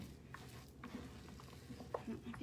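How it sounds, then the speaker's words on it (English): Potato chip casserole ingredients stirred together in a bowl, giving soft, irregular scraping and crunchy rustling, close and quiet, with a faint hum beneath. "we are going to continue just to mix this"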